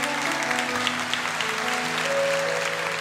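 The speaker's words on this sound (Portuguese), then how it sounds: "Um aplauso forte" A church congregation applauding after a Gospel reading at a Catholic service, a steady, dense wash of many hands clapping at once, sustained and even throughout, with a faint hum beneath.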